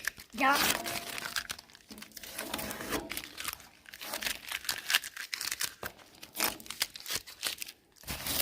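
Masking paper being peeled and crumpled off the frame of a 1968 C10 truck during painting prep, uneven crinkling and tearing rustles up close, with people talking in between.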